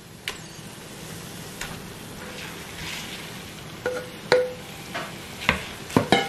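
Ground beef cooking in a pan for keema, with a soft steady sizzle and several sharp spoon scrapes and clinks against the pan that grow more frequent toward the end.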